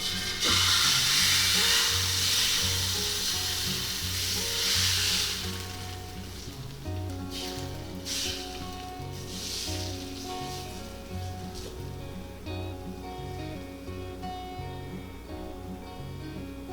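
Fresh lumpia frying in an oiled pan over lowered heat: a loud hissing sizzle at first that eases into a quieter, steady crackle.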